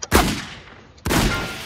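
Two loud, sharp shotgun blasts in the Just Die Already video game, about a second apart, each with a short decaying tail.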